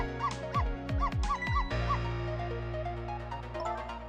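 Dog barking in a video game: a quick run of several yipping barks over a droning musical backdrop during the first two seconds, then only the steady tonal hum continues.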